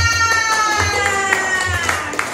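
Students in a classroom clap together for a group that has just presented, a short burst of lively clapping mixed with children's voices, chatter and a teacher speaking.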